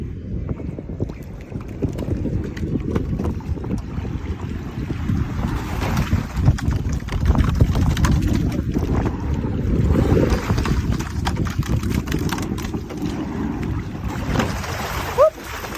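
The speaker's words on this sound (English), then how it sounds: "We're now going to show you what happens when the blade gets caught underneath the water." Rowing boat crew on open water, oar blade catching under the surface; continuous wind and water rush with boat movement throughout, a brief knock near the end, no clear voices.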